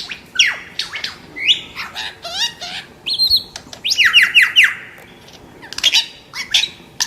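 Lyrebird, an Australian songbird famed for mimicking other species, delivers a varied string of sharp chirps, squawks and rapid trilled phrases, loud and close, alone with no talking.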